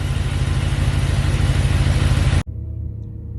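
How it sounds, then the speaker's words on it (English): Loud, steady engine drone from a car warming up, with a low idling rumble that cuts off abruptly, leaving a quieter lower hum. "listen to the symphony whine of warming up the car"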